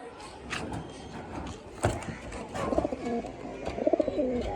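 Pigeons coo close by in soft, repeated low throaty bursts, mixed with rustling and light flapping.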